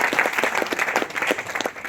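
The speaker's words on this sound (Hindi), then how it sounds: "उनके लिए जोरदार तालियां होनी चाहिए।" Audience at a Milifestyle business event claps loudly and enthusiastically, the applause swelling in uneven bursts and dipping slightly toward the end.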